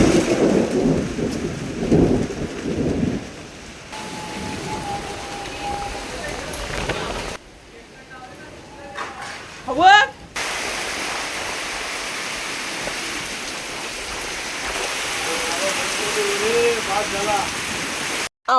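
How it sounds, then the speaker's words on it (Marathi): Heavy rain pours with rumbling thunder and wind, a dense roaring wash that breaks off into quieter stretches with birdsong and a voice before the downpour resumes. "पाऊस आलाय जोरात."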